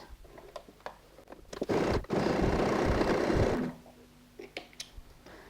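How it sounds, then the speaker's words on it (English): A home sewing machine runs in a short burst while stitching the side seam of a beginner tote bag with back stitches, surrounded by faint handling clicks and fabric rustle. "sew a stitch starting and finishing with a back stitch. We're going to do exactly the same on the other side"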